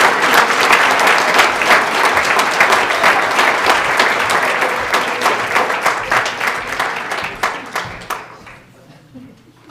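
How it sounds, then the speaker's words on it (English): Loud, dense applause from a school-district awards ceremony audience, a steady wash of many hands clapping that gradually thins and fades out near the end. "Let's give a big round of applause"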